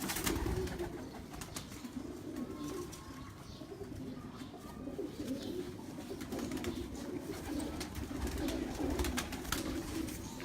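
Pigeons coo on a rooftop loft, a steady low murmur of overlapping calls from several birds that continues throughout at moderate loudness, with occasional scuffles and faint background noise.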